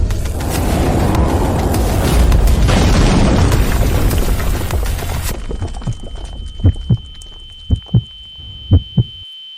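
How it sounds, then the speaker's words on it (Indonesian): A wall blasted from a distance collapses in a long, loud roaring rumble of explosion and debris, then fades into a sparse series of deep, heavy thuds that slow and quieten. "Meledakkan tembok dari kejauhan."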